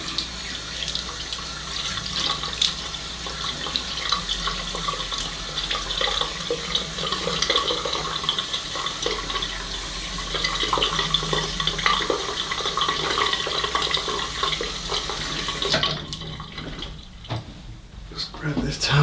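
Tap water runs steadily into a sink while a vintage Sheffield wedge straight razor is rinsed, a continuous splashing hiss that cuts off near the end.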